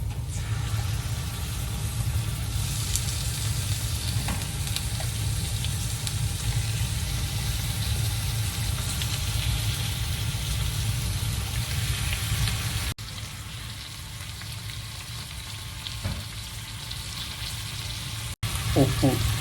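Washed chicken frying in a pan with a loud, continuous sizzle that drops somewhat in level partway through, followed by a brief clatter near the end.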